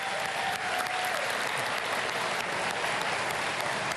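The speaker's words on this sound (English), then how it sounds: "Would you give me a round of applause?" Audience applause at an art awards show, a dense, steady wash of many hands clapping at once, loud and continuous throughout with no speech rising above it.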